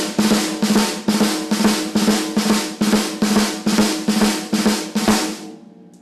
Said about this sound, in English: a 3-stroke rough sounds like this. It consists of 2 quiet grace notes, ghost notes,